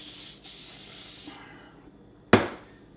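Cooking spray spritzed onto a small trout fillet in two sharp bursts: a steady broadband hiss lasting over a second, a pause, then a short loud blast that tails off.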